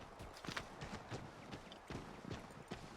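Horse hooves clip-clopping at a walk in Assassin's Creed 3, a steady uneven rhythm of soft thuds over a faint background bed, close and moderately quiet.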